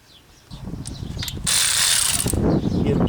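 Close mechanical clicking and whirring as thread-locked bolts are started into a rear wheel hub on a 1998 Corvette C5, rising into a louder continuous ratcheting rush in the second half.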